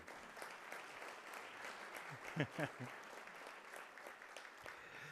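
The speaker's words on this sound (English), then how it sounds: "Sure, you can give Tim a big round of applause" Breakfast-event audience in West Bloomfield, Michigan, applauding a man in a receiving line: a steady, moderately loud round of clapping, with a few louder claps and a brief voice partway through.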